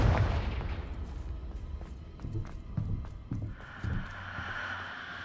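A Confringo spell in Hogwarts Legacy fires off, with a loud burst at the start followed by several dull thuds and booms of moderate loudness, then a lingering airy rumble.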